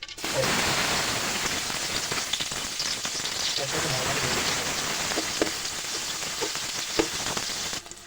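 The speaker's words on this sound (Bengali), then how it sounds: "পেঁয়াজটাকে ভালোভাবে ভেজে নিতে হবে পেঁয়াজটাকে ভালোভাবে ভেজে এরকম বাদামি রং করে" Chopped onions fry in soybean oil with a continuous crackling sizzle, fairly close and even, with faint scattered pops throughout.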